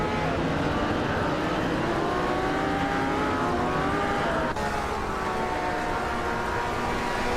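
Race cars lapping the Riverside track in a racing video game, vintage street cars through tight corners; a continuous close engine drone with shifting whining pitches, steady and loud throughout.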